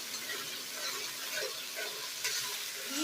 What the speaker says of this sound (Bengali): দই আর টমেটো সসটাকে ভালো করে একটু নেড়ে নেব।